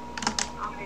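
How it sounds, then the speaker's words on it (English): Quick burst of a few computer keyboard key clicks, close and brief, over a faint background hum. "Are you typing... where are you?"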